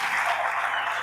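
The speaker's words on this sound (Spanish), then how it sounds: "Démosle un aplauso al Señor" Applause from a church conference audience, a dense steady clatter of many hands clapping filling the short moment without pause.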